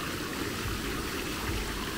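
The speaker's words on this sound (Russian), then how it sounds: "здесь вода до сих пор льется, хотя уже 10 час ночи" At night, water keeps running down a water-park slide at a Cebu resort, a soft, steady trickling wash that stays faint and even throughout, with no voices.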